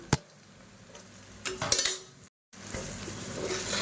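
Mushrooms being stirred and sautéed in a pan on the stove, with a spoon scraping and clinking against the pan over a soft, steady sizzle, a brief louder stir midway and a short gap of silence.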